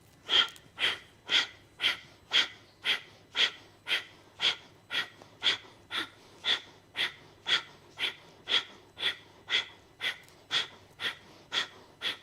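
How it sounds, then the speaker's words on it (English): Deep, steady breathing during a yoga class, with about two dozen even, rhythmic breaths in and out, close and clear with a slightly wheezy edge and no talking. "So breathe in, breathe out, breathe in"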